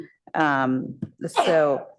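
A single short sneeze bursts out during an architectural review board meeting, quick and close, set between stretches of people talking.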